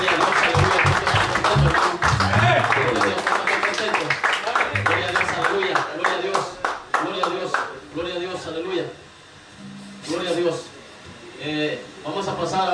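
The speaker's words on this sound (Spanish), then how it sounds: "Démosle palmas al Rey de Reyes y Señor de Señores." A church cell-group congregation claps their hands in praise, dense and rhythmic at first, then thinning into scattered claps, under loud continuous speech from a preacher.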